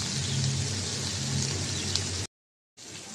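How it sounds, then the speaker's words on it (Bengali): Small mola fish frying in oil on one side, a steady dense crackling sizzle that runs for about two seconds, breaks off into a short silence, then resumes. "এক পিঠ ভাজা হবে মাছটা, দিয়ে দিলাম।"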